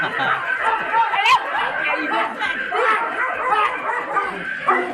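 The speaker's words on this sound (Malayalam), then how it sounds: "തെരുവുനായ ശല്യം പ്രമേയമാക്കി നാടകം അവതരിപ്പിക്കുന്നതിനിടെ നടന് വേദിയിൽ തെരുവുനായയുടെ കടിയേറ്റു." Stray dog barking and yipping near an outdoor stage during a play in Kandakkai, Kannur, sharp repeated yelps and whimpers mixed with crowd chatter and voices.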